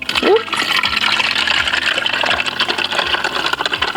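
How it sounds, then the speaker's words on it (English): Blackberry mixture is poured through a strainer, making a close, continuous liquid gush and trickle, with a voice speaking over part of it. "And then you run the berry mix in through the strainer."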